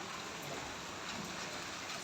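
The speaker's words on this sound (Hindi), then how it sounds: "इतनी तेज़ बारिश आ गई है, बहुत तेज़" Heavy monsoon rain with big drops pouring down over a park, a dense, continuous roar of downpour filling the whole stretch with no talk.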